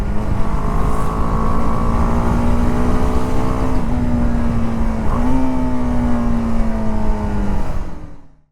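A BMW G310R motorcycle engine holds a loud, high, steady revving whine, pitch dipping and rising slightly twice, then cutting off abruptly at the end.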